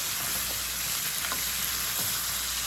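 Browned goat meat sizzles steadily in a pot for a Jamaican brown stew goat, a dense close frying hiss with faint stirring scrapes and no talk.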